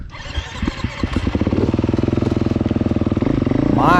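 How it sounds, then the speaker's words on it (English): A 2020 Beta 430 RR Race Edition dirt bike engine starts at an off-road recreation area and settles into a loud, close, rapid pulsing idle, then revs up at the end. "My weapon of choice is my 2020 430 RR Race Edition."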